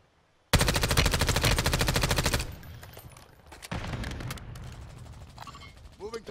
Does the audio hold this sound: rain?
no